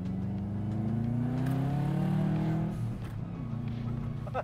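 A 2004 Subaru Impreza WRX accelerates with a steady, rising engine drone heard from inside the small car, holding loud and even for several seconds before easing slightly.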